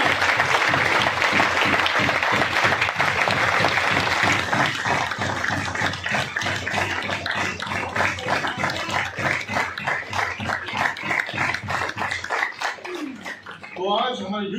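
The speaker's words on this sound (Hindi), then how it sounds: "इनके वेलकम में एक बार जोरदार तालियां।" A seminar audience claps loudly in a dense, sustained burst that thins into scattered claps near the end, with some voices mixed in.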